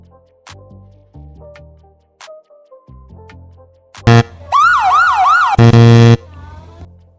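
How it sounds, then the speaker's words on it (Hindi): Siren sound effect played twice in an edit: a loud rising-and-falling wail bursts in after quieter tones, repeats in two strong blasts near the end, each alone. "देखो 2 सायरन बज गए हमारे"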